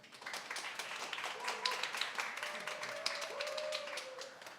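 An audience gives a round of applause to welcome a speaker at a company business report, a dense, moderately distant patter of many hands clapping steadily throughout.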